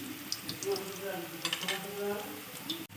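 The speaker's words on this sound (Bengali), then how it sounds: "আমি কোপ্তাগুলো ভালোভাবে নেড়ে চেড়ে ভেজে নিচ্ছি" Raw banana koftas fry in hot oil on low heat with a soft, continuous sizzle, a few light scrapes from turning them, and a faint voice in the background.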